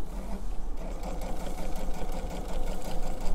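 A sewing machine stitches a strip quilt at close range, its needle pounding in a fast, even rhythm over a steady motor drone. It runs continuously with no voice over it.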